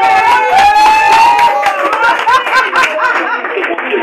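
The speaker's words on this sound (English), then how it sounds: "Let us give a clap for Wendell." Family members clap for Wendell at an uncle's birthday celebration, scattered hand claps mixed with chuckles, laughter and overlapping voices, close and fairly loud.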